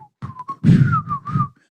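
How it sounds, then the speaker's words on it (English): A person whistles the Andy Griffith Show theme, a short melodic tune of a few rising and falling notes, close and clear. "Is this when I whistle the theme to the Andy Griffith Show?"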